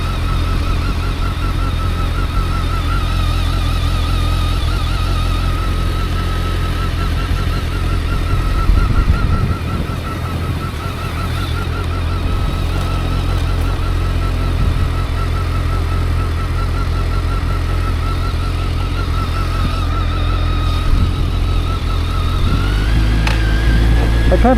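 A BMW motorcycle engine pulls steadily in first gear over a gravel driveway, a continuous close, loud drone with a low rumble that holds throughout, some gravel crunch and wind underneath.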